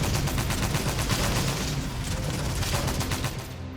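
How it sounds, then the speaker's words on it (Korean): Self-propelled anti-aircraft guns firing at a pontoon bridge in a wartime river battle, a dense, continuous rattle of rapid gunfire close and loud, with no speech. "자주 대공포 2대도 합세해 부교를 공격했다."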